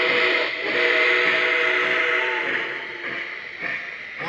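A model steam locomotive's whistle, modeled on a Nickel Plate Berkshire, blows in one long, sustained tone over a hissing background at a train show, loud and close, fading slightly toward the end.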